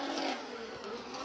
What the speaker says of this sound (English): it just sounds like the car is just struggling to